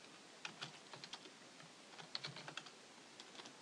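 Typing on a computer keyboard, faint scattered key clicks in short irregular bursts over a quiet hiss, with no voices.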